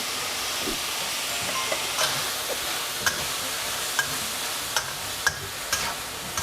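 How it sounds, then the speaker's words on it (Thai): Beef flank sizzles and hisses as it is stir-fried with soy sauce and a splash of water, with sharp spatula clicks and taps against the pan at irregular intervals. "ผัดทุกอย่างให้เข้ากันนะครับ ใส่น้ำลงไปเล็กน้อยนะครับ"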